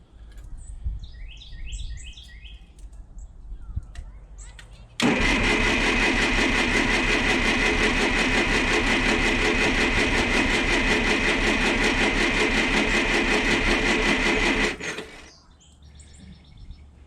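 A used propane-fueled forklift engine cranks and catches, then idles loudly and steadily for about ten seconds before shutting off, with birds chirping faintly outdoors before and after.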